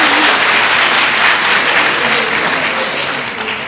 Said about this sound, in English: so give yourself a clap for getting through that